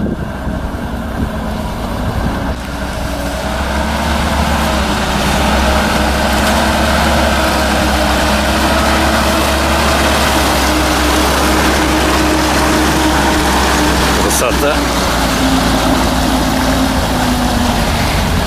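A GAZ-69 engine runs steadily and loud throughout, a continuous low drone like a vehicle pulling away and driving on, with a brief clatter midway and no talk.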